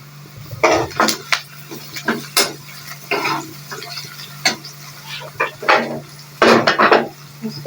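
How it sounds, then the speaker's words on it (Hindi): Garlic goes into a pan of tinde and is stirred while cooking, a spoon scraping and clanking against the pan in uneven bursts over a soft sizzle, close and with no talking. "अब हम इसके अंदर लहसुन डालेंगे,"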